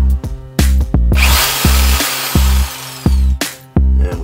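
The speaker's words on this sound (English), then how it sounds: "With the jigsaw," A jigsaw runs in short repeated bursts inside a camper van conversion, its motor whining loud and close as it starts and stops about eight times with brief pauses between.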